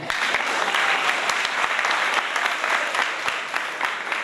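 An audience claps for a school principal speaking at an event, a steady roomful of hands with distinct sharp claps standing out, moderately loud and continuous throughout.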